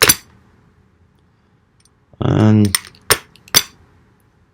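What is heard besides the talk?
serrated knife edge cutting zip ties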